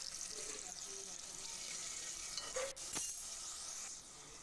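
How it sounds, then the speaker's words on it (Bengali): Raw onion and green chillies frying in hot oil, a steady soft sizzle throughout with a brief clatter of stirring near the middle. "আর তেলটা গরম হয়ে এসছে, এর মধ্যে আমি দিয়ে দিচ্ছি কাঁচা পেঁয়াজ আর লঙ্কা।"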